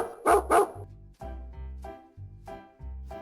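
A dog barks close by: two sharp, loud barks, then a run of five shorter, deeper barks at uneven intervals, with no other voices.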